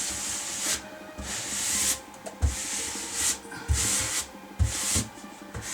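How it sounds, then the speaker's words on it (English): Grout is pressed into the joints between bathroom wall tiles, making repeated close scraping and rubbing strokes in a loose rhythm, each swipe ending in a soft thump. "I'm just pushing the grout inside my joints, in particular at the crisscross right here"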